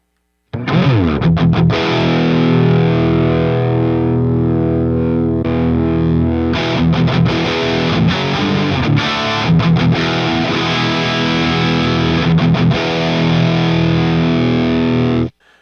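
A loud, heavily overdriven electric guitar plays chords and riffs through a Friedman amp with the boost engaged, with sustained, saturated tones and a few short pauses.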